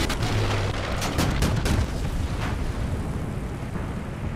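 Heavy tank cannon fire in War Thunder, a deep booming blast with rolling low rumble that persists through the whole stretch, a few sharper cracks early on over dense battlefield noise, loud and close.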